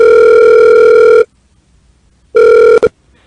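Telephone ring tone heard during a call-in radio show, a loud steady electronic tone lasting about a second, a pause, then a second ring cut short, with no talk.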